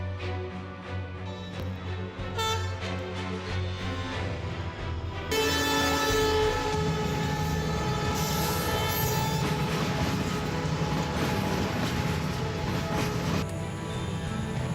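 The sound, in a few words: train passing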